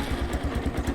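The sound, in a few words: dirt bike engine starting with electric start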